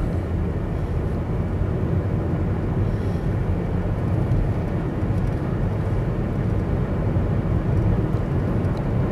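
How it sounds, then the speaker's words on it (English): Steady broadband road and engine rumble from a Mercedes E220 cabriolet accelerating on the open road, constant and fairly loud with no clear rev changes. "Accelerating up to normal speed now, it's fine."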